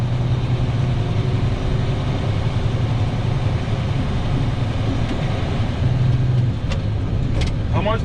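A truck engine running in a CDL training truck, a steady loud low rumble with a brief swell in intensity near the end as throttle is applied, cab noise throughout.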